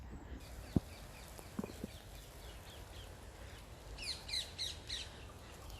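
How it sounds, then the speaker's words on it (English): Distant, shrill rose-ringed parakeet calls come in a quick series of squawks near the end, over a quiet outdoor background at Isabella Plantation with a couple of soft knocks. "many of you recognize them as the Rosary Parakeets"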